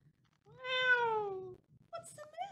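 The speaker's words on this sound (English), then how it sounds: "Meow. My goodness, you sound grumpy." A cat lets out a single close, drawn-out meow that falls slowly in pitch. A brief voice follows.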